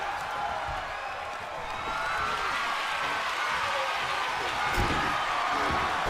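Arena crowd in the wrestling video game WWE 2K24, a steady loud roar and murmur of spectators with cheering swells, continuous throughout with no clear speech over it.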